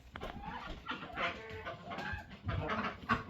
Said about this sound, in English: Where are you going, ducks?